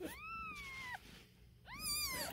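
A day-old kitten meows twice, two loud, high, rising-then-falling cries close to the microphone, separated by a brief pause.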